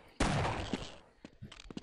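Gunfire in the Half-Life video game: a sudden loud burst of shooting that rattles on for most of a second, then trails into scattered quieter shots and impacts.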